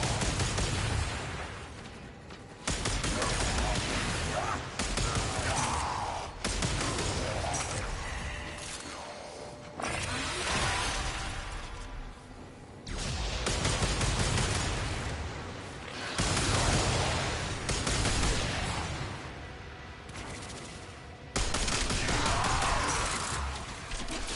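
Gunfire in the Warframe video game as the player slides and shoots, loud bursts of shots starting and stopping in blocks across the stretch, with no talk over them.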